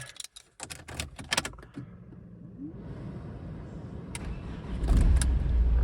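After standing overnight in a garage, a car engine cranks and catches, then settles into a steady idle that builds louder. Clicks and jangling keys come first, heard up close.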